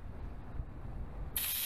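Aerosol spray can bursting on abruptly near the end with a sharp, loud hiss after a quiet low rumble.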